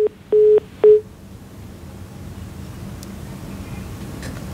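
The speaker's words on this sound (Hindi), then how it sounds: "उनका फोन कट गया, लेकिन दोबारा से कनेक्ट करने की कोशिश की जाएगी" Telephone dialing tones sound while a dropped call is being reconnected during a news broadcast: three short, loud steady beeps in the first second, then a quiet open line hiss.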